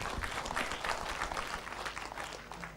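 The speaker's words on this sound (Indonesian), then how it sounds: "aplaus buat kita semuanya." An audience at an indoor political dialogue event in Bali applauding, a sustained dense round of clapping from a crowd, fairly even in loudness throughout.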